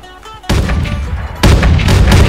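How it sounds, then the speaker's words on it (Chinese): Gunpowder explosions on a battlefield in the video game Mount & Blade II: Bannerlord: two loud, dense bursts of booming, crackling blasts, the second arriving about a second after the first, over a lower rumbling background. "你看前面有爆炸的效果"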